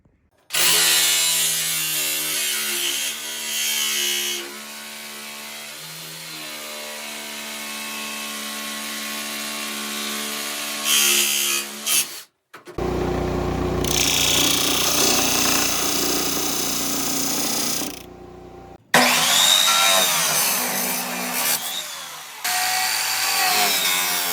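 A loud power saw whines steadily through old skis, pausing briefly between long cuts, then starting again with a high, grinding drone.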